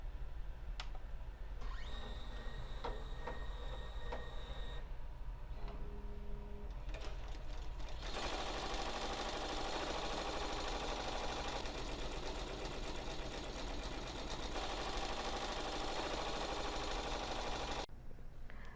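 Embroidery machine stitching a flamingo design onto a towel, a fast continuous mechanical chatter with shifts in pace, close and alone, stopping near the end.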